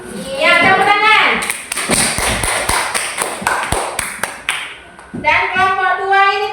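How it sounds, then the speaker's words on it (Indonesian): Classroom clapping as students applaud a group's answer, loud close hand claps in a quick burst, with a voice and a teacher's voice speaking before and after. "Ya, tepuk tangan."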